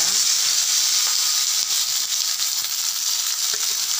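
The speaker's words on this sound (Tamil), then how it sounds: "வெங்காயம் கருவேப்பிலையும் சேர்த்துக்கலாம்." Onions and curry leaves fry in hot oil in a pan, making a loud, continuous sizzle and hiss with occasional crackles and pops, close by and without speech.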